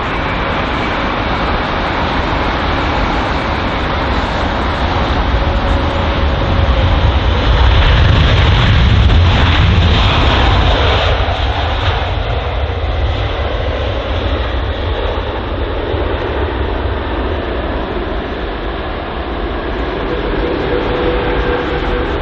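Aircraft at London Heathrow airport, a steady, loud broadband engine roar that swells to a peak near the middle as it passes close, then eases back to a continuous rumble; no voices.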